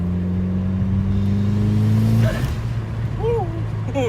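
Mitsubishi Evo 8 with a new intake, a steady revving engine hum that drops off when the throttle is released, followed by brief turbo flutter and whooshing, with people talking over it.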